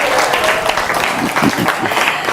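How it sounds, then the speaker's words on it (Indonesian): Audience applause rolls through the hall for two Jakarta gubernatorial debate candidates, Anies and Ahok, a dense, continuous clapping with crowd murmur, loud and close for a couple of seconds. "tepuk tangan untuk kedua kandidat"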